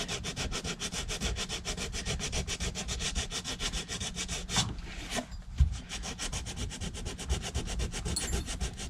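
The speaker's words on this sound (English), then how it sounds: "we're going to take our 120 grit sandpaper chunk here and just basically start" Rapid back-and-forth rubbing of 120-grit sandpaper on a cherry ostrich leather boot, a steady rhythmic scratching stroke after stroke, close up, with a brief pause midway.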